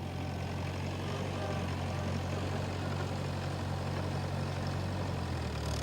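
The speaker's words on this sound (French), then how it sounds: "C'est maintenant qu'intervient le tracteur de la coopérative, lui aussi réservé au champ de séchage." A cooperative's tractor, fitted with special tyres, runs on a rooibos drying field, its engine a continuous low, rumbling drone at moderate distance that stays even throughout.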